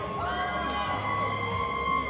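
Spectators cheer and whoop at a bowling singles finals in Lubbock, Texas, a loud continuous roar of shouting voices filling the hall, with a commentator's voice mixed in.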